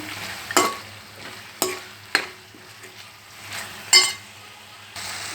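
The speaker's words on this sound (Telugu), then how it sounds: "ఇప్పుడు పసుపు వేసుకుందాం ఒక అర చెంచడు వేసుకున్నాను వేసుకొని కలుపుకోవాలి" Mutton and tomato curry with turmeric being stirred in a pan: a soft sizzle underneath, punctuated by several sharp spatula scrapes and clinks against the pot at irregular intervals.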